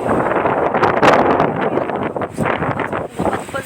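Strong wind roars across a microphone outdoors near farm fields, a steady, loud buffeting rush with gusts that swell and ease for several seconds.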